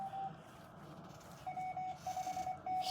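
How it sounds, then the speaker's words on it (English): Repeated short electronic beeps in a steady pulsing pattern over a low background hum, fairly close and moderately loud, inside a communications shelter. "I hear beeping going on in the communications shelter"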